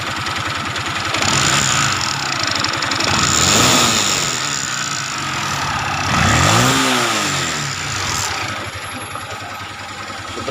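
A Yamaha Sniper 155 motorcycle engine with a damaged crankshaft runs with heavy vibration, recorded up close against the engine, idling with a rough rattling buzz and two rising-and-falling revs, loud and continuous.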